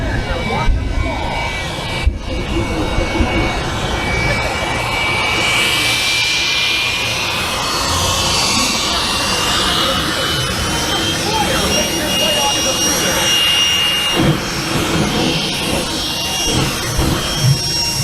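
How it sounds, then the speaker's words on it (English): Jet engine of an aerobatic aircraft during an airshow display, a loud continuous roar with a slowly rising whine and sweeping pitch changes, a couple of sharp breaks near the start. "Stephen Covington and the Fury's been flying aerobatics for more than 20 years."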